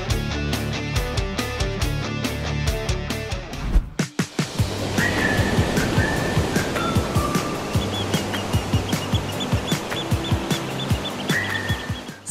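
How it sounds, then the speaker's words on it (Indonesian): Surf rolls onto Wawaran beach at Karang Turi, Pacitan, East Java, a steady hiss of breaking waves heard under a rhythmic music beat, with a few high whistling tones. "Sekarang aku lagi ada di dekat Pantai Wawaran, salah satu pantai yang jadi pusat aktivitas nelayan di Karang Turi, Kabupaten Pacitan"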